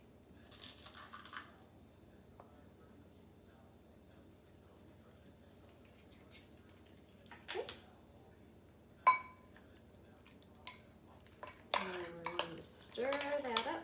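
Ingredients being mixed in a bowl give sparse, quiet clinks and scrapes of a utensil against the dish, with a few sharper knocks later and brief speech toward the end.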